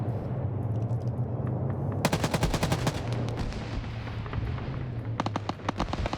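Rapid turret gunfire in a video game, bursts of sharp repeated shots from about two seconds in and again near the end, loud over a steady low engine-like hum.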